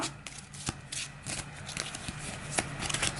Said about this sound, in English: Or shuffle the hand, give it a quick cut, and take the top 2.